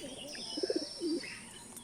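Pet pigeons cooing on a rooftop under a cloudy sky, a brief soft run of low coos heard faintly and fairly close.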